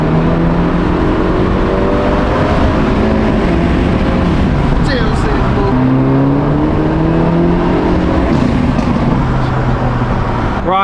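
A highly modified, tuned Hyundai Elantra N cruises at speed with the heater running. Loud, close engine and road noise rises through the gears with climbing tones, and people talk over it.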